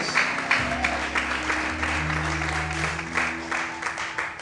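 A church congregation claps during a Sunday morning service, steady applause under sustained low organ or keyboard tones.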